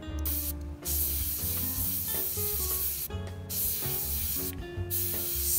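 An airbrush sprays paint onto a Flames of War Jagdpanther tank model in short repeated hissing bursts, each lasting about a second with brief pauses between, loud and close with no talk.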